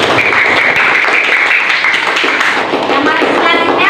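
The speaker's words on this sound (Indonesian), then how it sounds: "Tepuk tangan untuk kelompok" Classroom applause for a student group that has just finished presenting, a brisk patter of many hands clapping close by with voices mixed in.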